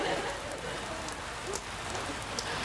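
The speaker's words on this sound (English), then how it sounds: "Raining again, Rob" Rain falling steadily, a dense hissing patter of drops on a surface with a few sharper splashes, continuous and close.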